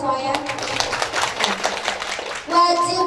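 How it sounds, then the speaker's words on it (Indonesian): An audience at a selling seminar claps in a brief burst of quick hand claps, with voices talking and a voice over it, before speech takes over at the end. "tepuk tangan dong buat semuanya."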